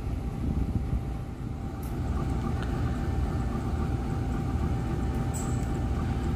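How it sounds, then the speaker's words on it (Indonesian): Motis Selatan passenger train at a station, a steady low rumble of the locomotive and cars pulling away, continuous and fairly loud with faint high squeals. "kereta api Motis Selatan siap diberangkatkan"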